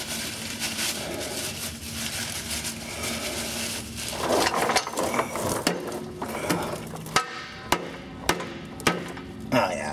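Heavy dull blows from a dead blow hammer strike metal repeatedly while removing a rear transmission seal on a 1999 Dodge Dakota 4x4, growing sharper and more evenly spaced toward the end, amid mechanical rattling.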